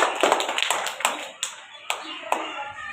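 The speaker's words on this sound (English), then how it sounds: "Clap your hand, class 1." Scattered clapping from a school class greeting prize winners, a few sharp individual claps at irregular intervals over background voices.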